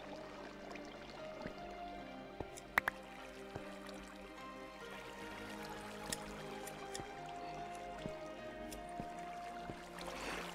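Water trickles and drips in a Minecraft world, soft irregular droplets and splashes over a low continuous flowing wash, fairly quiet with no talking.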